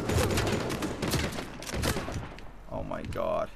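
Sniper rifle gunfire in an Uncharted The Lost Legacy multiplayer match, a rapid series of sharp cracks and bursts over the first couple of seconds, followed by a short tonal in-game sound near the end.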